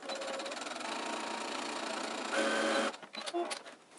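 Sewing machine stitching a 1/4 inch fabric seam for a face mask, running in a steady fast whir for nearly three seconds, then stopping with a few soft clicks.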